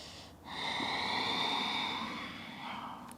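A person breathing in a yoga forward fold: one long, audible, airy exhale through the nose stretches over a couple of seconds, close and alone, followed by a softer trailing breath.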